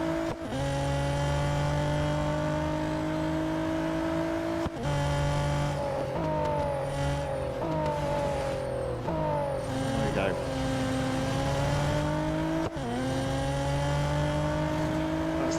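Race car from the mobile game Real Racing 3 driving a circuit, its engine droning loudly and continuously with repeated shifts in pitch as it brakes and accelerates into corners, a voice talking over it.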